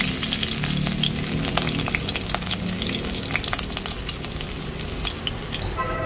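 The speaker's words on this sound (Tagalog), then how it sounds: "mainit ang mantika guys. Lagay natin ang bawang" Garlic sizzles and fries steadily in hot cooking oil, a dense, continuous crackle with scattered sharper pops and light stirring, close and fairly loud throughout with no voices.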